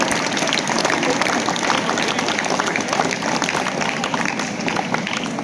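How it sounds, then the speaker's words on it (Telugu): Steady, dense audience applause for a schoolgirl at a student awareness event, a continuous wash of many hands clapping without pause and fairly loud throughout. "మనందరం కూడా మన కరతాళతో ఆ పాపకి ఆల్ ది బెస్ట్ చెబుదాం"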